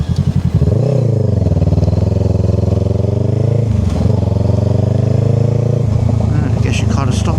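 A new rider on a learner's permit runs a motorcycle engine up close, a loud, steady thrum that sputters and breaks off near the end as the bike stalls while pulling away.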